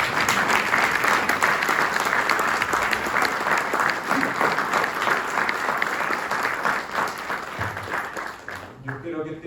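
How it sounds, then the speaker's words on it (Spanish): Sustained applause from an audience at a book launch event, a dense, even wash of clapping hands that continues steadily and tapers off near the end. "les pido nuevamente un aplauso y un reconocimiento para todos"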